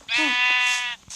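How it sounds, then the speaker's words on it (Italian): A single sheep gives one loud, close, wavering bleat lasting about a second, followed by a brief quiet gap. "Pecore!"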